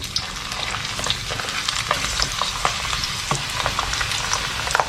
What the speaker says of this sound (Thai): ทอดเครื่องเทศของเราเนี่ยครับ